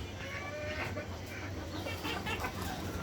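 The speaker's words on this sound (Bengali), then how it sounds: "এখানে আমার আরেকটা মুরগি ডিম পাড়তে বসছে" Chickens cluck softly in a home poultry yard where a hen is settling to lay eggs, with scattered close calls over a constant low background hum.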